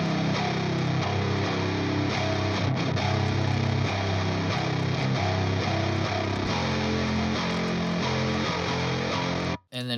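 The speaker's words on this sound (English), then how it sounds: "I just used it for a basic low guitar underneath everything." A low, heavily distorted guitar from the Odin 3 MIDI guitar plugin plays alone as a rock bed part, a dense, loud and sustained tone with shifting chords that cuts off abruptly near the end.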